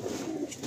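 A single soft coo comes from giribaz pigeons kept for sale in Kolkata, faint and brief at close range.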